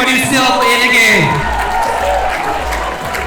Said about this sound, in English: let's give a round of applause to everybody who's still in the game